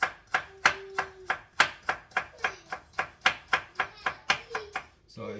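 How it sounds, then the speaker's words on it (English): Knife chopping an Irish potato on a cutting board for Jamaican-style curry fish, about a dozen crisp, evenly spaced close thuds in a steady rhythm, with no talking. "So cut up my Irish potato"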